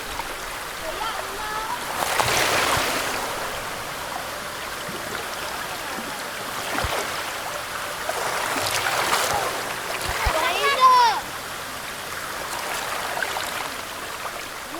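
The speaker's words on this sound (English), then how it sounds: "the kids create some waves here, and you can really hear it with the audio" Water sloshing and splashing in irregular bursts as kids make waves in a fountain, with children's voices chattering and squealing in the background over a soft outdoor wash.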